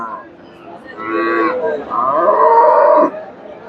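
A medium-sized Friesian cow at the Chandaikona cattle market moos twice in quick succession, a loud close bellow and then a longer lowing call, with faint crowd noise in the background.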